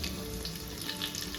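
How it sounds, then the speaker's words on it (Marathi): Whole spices and crushed garlic frying in hot oil in a single pot for mixed vegetable masala rice: a steady, close, crackling sizzle that holds evenly throughout the short moment, with no voices. "तर इथं तेल गरम झालं की आपण टाकणार आहोत अख्खे मसाले आणि लसूण, ठेचलेला लसूण।"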